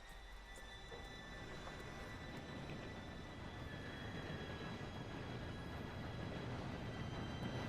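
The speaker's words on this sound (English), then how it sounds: "Train should be here any minute now." Steam train arriving in the video game Red Dead Redemption 2, a low steady rumble of rolling wheels that builds gradually in the distance, fairly quiet and with no talk.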